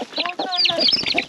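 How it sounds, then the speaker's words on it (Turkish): Hens and their young chicks in a farm coop, the chicks just starting to grow wing feathers: close, busy clucking mixed with high, rapid peeping chirps that run continuously without pause. "Tavuğumuz burada, civcivlerimiz burada, kanatlanmaya başlamışlar."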